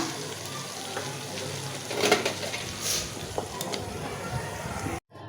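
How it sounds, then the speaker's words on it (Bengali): Taro stolons cooked with shrimp being fried and stirred, a continuous close sizzle with a few scraping stirs and clinks, a louder burst around the middle, then a brief cutoff near the end. "আর একটু ভাজা ভাজা করে নিমু, আর একটু ভাজা ভাজা করলে খুব সুন্দর হয়ে যাবো গা।"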